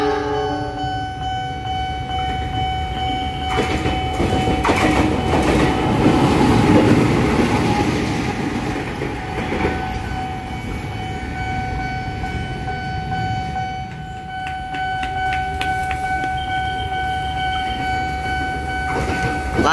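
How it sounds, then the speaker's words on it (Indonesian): A service locomotive runs through Pondok Jati station, a steady heavy rumble and rail noise lasting throughout with a brief horn-like tone partway, loud and close with no talk. "Lokomotif dinas akan melintas di stasiun Pondok Jati."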